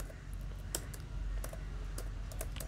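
Rapid keystrokes on a computer keyboard while JavaScript code is typed, an uneven run of close, crisp clicks with no voices over steady background hiss.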